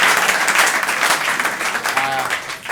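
An audience applauds a guest on a talk show, dense steady clapping filling the whole moment at close range with crowd noise, a voice briefly heard over it near the end.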